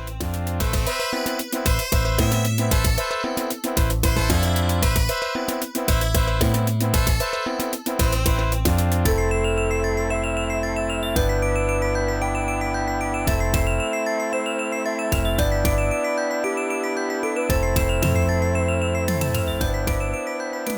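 Bright, looping electronic game music plays loudly and steadily, with chiming synth melodies over a pulsing bass line.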